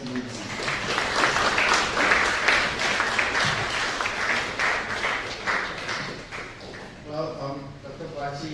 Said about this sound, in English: with a mighty hands of applause, let us welcome Professor Patrick F. Mensah.